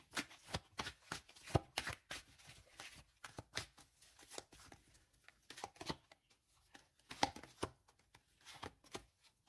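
Playing cards are shuffled and laid out close by, a rapid series of crisp riffling snaps and soft slaps that come in quick uneven bursts with no talk.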